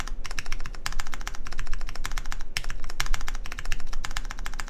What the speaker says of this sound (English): I always love the sound of these vertical 2U keys on numpad.